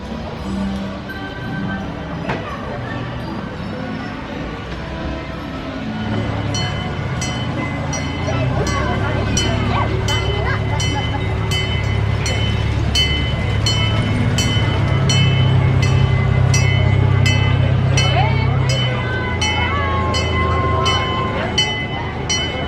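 An amusement park train pulls out of Main Street Station at Adventureland Resort, its engine rumble building into a steady rolling drone, with rapid regular clicks from the wheels or mechanism and voices faint underneath.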